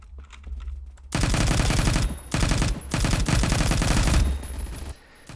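Automatic rifle fire in the Phantom Forces shooter game, loud close bursts of rapid shots from about one second onward, broken by short pauses and ending in a brief lull.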